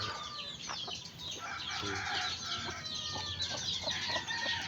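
Hens cluck steadily in a busy flock, with overlapping calls and a rooster-like cry mixed in, close and fairly loud over farmyard ambience.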